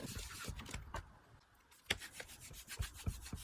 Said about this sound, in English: So now I'm going to ink blend my front, my card